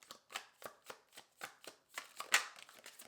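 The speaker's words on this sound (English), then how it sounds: "one more shuffle" Tarot cards are shuffled by hand in a quick series of soft riffling bursts, about a dozen close, papery flutters in an uneven rhythm with no talking.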